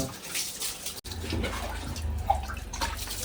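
Running water splashes continuously while a dog named Tyson is bathed, a steady close pouring and spattering sound with a brief cut near the start and faint voices beneath.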